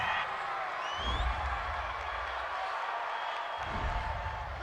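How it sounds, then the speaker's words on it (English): A home football stadium crowd cheers a penalty call with a broad, steady roar that rises slightly in places, heard at a distance and fairly faint. "This home crowd, they're happy with that call."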